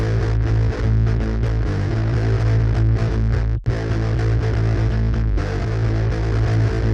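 A wide, heavily distorted synth melody with thick effects and deep low end, playing continuously and loudly with one brief dropout midway.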